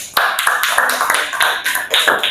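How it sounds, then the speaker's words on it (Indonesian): Students in a classroom clapping for a group that has just presented, a short burst of quick, bright, uneven hand claps close by. "Tepuk tangan untuk kelompok 3"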